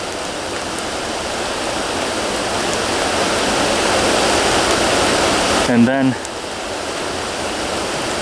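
Steady broadband rush of creek water flowing nearby, continuous and even throughout, with a brief spoken phrase over it near the end.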